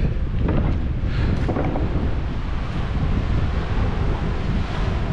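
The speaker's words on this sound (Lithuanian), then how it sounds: "labai gūsinga, vėjuota" Strong, gusty wind buffets the microphone on a Montenegro coastline, roaring steadily over crashing surf and sea noise for the whole stretch, loud and close with no speech.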